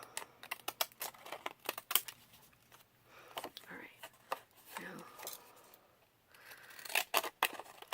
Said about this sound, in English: Let's do the torn scissors for now